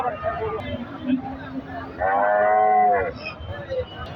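Cattle at a busy cattle market, one cow giving a loud drawn-out moo for about a second amid constant crowd chatter and background noise.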